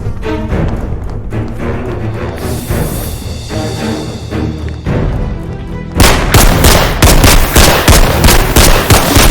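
Video game gunfire, a loud dense burst of rapid shots in the last few seconds after a stretch of game music and booming effects, close and without talk.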